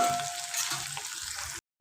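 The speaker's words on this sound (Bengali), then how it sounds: "এটা ভালো করে কষাও, মশলা টমেটো কাঁচা লঙ্কাটা খুব ভালো করে ভাজা হোক।" Meat with spices, tomato and green chili frying in a pan, a steady close sizzle with occasional stirring scrapes, cutting off abruptly near the end.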